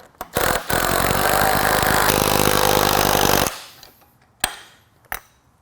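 A 3/4-inch driver tightens bolts on a roll-up door frame: a loud, close, continuous whirring burst lasting about three seconds, then quiet with a couple of sharp metallic clicks.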